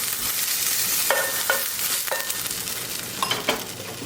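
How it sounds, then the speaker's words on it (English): A batch of beef frying in hot oil for Mongolian beef, a loud constant sizzle with occasional sharp clanks and scrapes of a utensil against the pan, no talking. "And then you put another batch, a little bit of oil."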